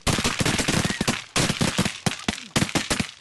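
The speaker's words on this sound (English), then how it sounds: "Nice shooting, boys." Rapid volleys of shotgun blasts from a duck-hunting party in a Texas blizzard, close and loud, several guns firing in quick overlapping bursts with brief pauses between strings of shots.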